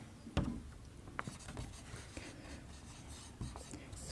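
Pen or chalk writing out a class 12 maths relations proof, faint close scratchy strokes with a few sharper taps, intermittent and quiet with no talking.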